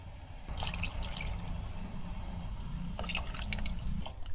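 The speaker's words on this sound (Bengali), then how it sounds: "চিনিটা জাল দেওয়ার পরে এখন দুধ দিয়া দিম" Milk pours into a pot of melted sugar for a palm cake, a close trickling and splashing stream with dripping bursts that start after a short pause and pick up again toward the end.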